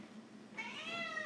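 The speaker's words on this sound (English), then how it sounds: "you might hear some meowing in the background and whatnot." A needy house cat meows once in the background, a drawn-out, wavering cry rising out of quiet room tone partway through.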